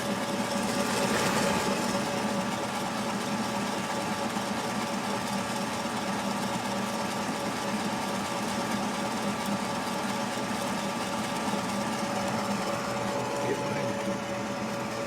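A Corretto coffee roaster roasting Ethiopian Yirgacheffe on a side porch runs on high heat, a steady loud mechanical drone and whirring hum that continues unbroken throughout.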